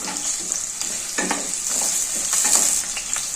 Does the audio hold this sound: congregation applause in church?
no